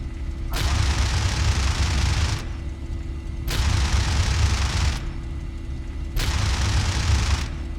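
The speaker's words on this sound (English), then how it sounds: "Let's fire the guns. Those are the guns converging at 180 meters." A P-51D Mustang fires its machine guns in IL-2 Sturmovik on the Bodenplatte Rhineland map: three long, loud bursts of about two seconds each, separated by the steady drone of the engine.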